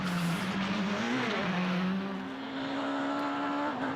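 A Xara World Rally car races along a stage at the Wallonie round of the 2014 British Rally Championship, its engine droning steadily with shifting pitch, at a moderate distance and with no talk.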